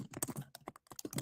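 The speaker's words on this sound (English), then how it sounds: "if you hear me typing" Rapid keyboard typing, a quick run of close, crisp key clacks with uneven rhythm and no talking.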